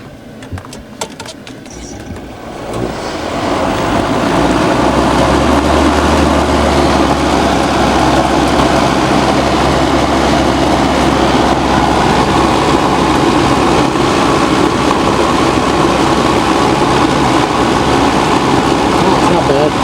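A QuietCool ES2250 whole house fan in an attic starts after a brief quiet moment, then holds a loud, steady rushing whir with a low hum underneath.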